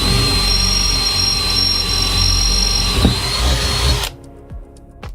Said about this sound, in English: drill into the corner with a drill.